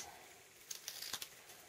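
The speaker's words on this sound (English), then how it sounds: "you want to cut it so it looks like a banner" Scissors hand-cutting paper into a banner shape for a baby shower tag, with a few quiet, close snips clustered together in the middle against a soft background hiss.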